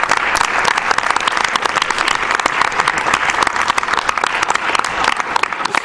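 Loud, dense applause from a crowd at a speedrun charity marathon, continuous clapping without pause for several seconds.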